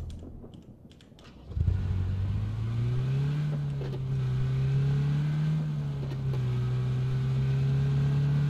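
A car starting off and accelerating in the video game PUBG, engine rising to a steady droning hum that holds and wavers through gear changes, with faint keyboard clicks beneath.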